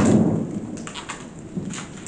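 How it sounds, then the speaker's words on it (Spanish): Steady rain with a low rumble of thunder underneath, continuous and fairly close, no voices. "Con la tormenta que hay, eléctrica y de lluvia y de todo."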